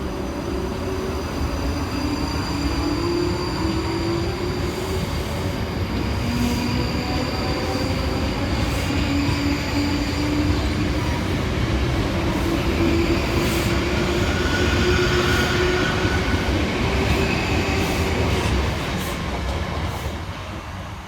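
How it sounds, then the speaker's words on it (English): A pair of British Rail Class 458 South Western Railway units pulls out of a station on the Waterloo to Reading line. Loud continuous wheel rumble and rolling clatter build and hold, with drawn-out wheel squeals and no voices. "Next to depart from the station is 458 405 and 458 415, working the 1505 South Western Railway service from London Waterloo through to Reading."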